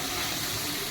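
Water splashed into a pan of frying chilli soybean sizzles in a brief, loud, steady hiss of steam, close up.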